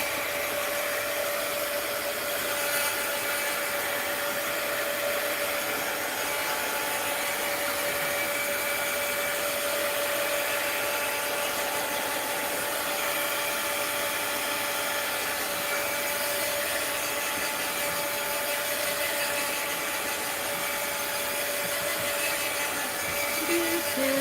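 A hair dryer or heat tool blows a steady, loud, continuous whirring drone with a fixed whine, held unbroken for the whole stretch, drying a mixed media art journal page.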